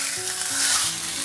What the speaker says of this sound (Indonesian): Setelah minyak panas, lalu goreng ikan.